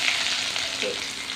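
Curry leaves crackle and sizzle in hot coconut oil with mustard seeds and fenugreek, a steady close frying hiss with no talk.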